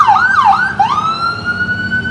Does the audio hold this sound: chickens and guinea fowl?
no